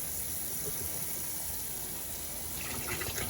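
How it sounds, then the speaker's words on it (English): Apple cider vinegar is poured into a container in a steady, close gushing stream that runs the whole moment with no speech over it. "taking some apple cider vinegar. I'm gonna pour some of that in here"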